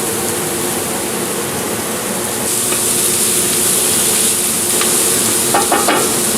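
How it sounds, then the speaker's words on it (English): Chopped pancetta sizzles and browns in a hot pan, rendering its fat with a steady, close frying hiss while a spoon stirs and scrapes it around, with a few sharp pops near the end. "So we start with our chopped up pancetta. Get that nice and hot. Put it around with the spoon a little bit."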